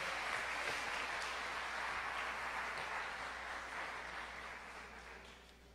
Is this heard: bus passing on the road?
no